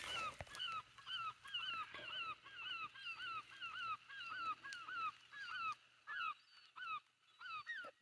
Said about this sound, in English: The birds are loud.